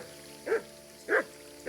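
A dog in Kingdom Come: Deliverance II gives three short, evenly spaced barks over a low steady in-game background hum.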